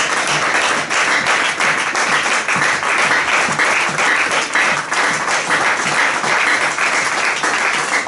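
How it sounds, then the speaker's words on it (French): Loud, steady applause from a church congregation acclaiming the Lord, dense clapping sustained throughout with no pauses. "Acclamons très très très fort le Seigneur."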